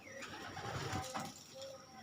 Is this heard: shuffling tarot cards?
no